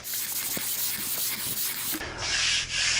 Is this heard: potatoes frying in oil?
no